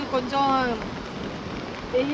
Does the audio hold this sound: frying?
no